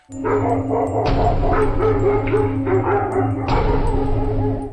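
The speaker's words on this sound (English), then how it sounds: "A dog nearby reacted instantly, barking and growling as if sensing something unnatural." A dog nearby barks repeatedly in loud, close bursts with growling tones between them, a fairly quick irregular rhythm over a steady background hum.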